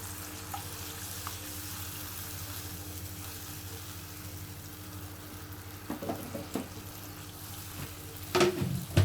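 Low, steady sizzling of spicy crab being sautéed with spices in a pan, quiet and continuous, with a few clinks and scraping stirs toward the end.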